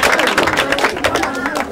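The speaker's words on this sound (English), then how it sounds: "Clap now. Give them" Audience clapping at a Nigerian primary school award presentation, a steady patter of many hands close by with crowd noise running under it the whole time.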